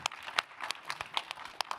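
A small group at an arts-education panel claps, a thin scatter of distinct hand claps from a few people, uneven and moderately quiet, with no talking.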